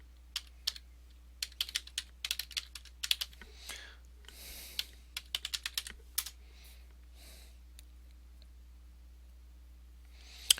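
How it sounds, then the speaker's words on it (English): Close, quiet keystrokes on a computer keyboard, typing in quick bursts of sharp clicks with short pauses between them, over a low steady hum. "And so you'll type in your cPanel username."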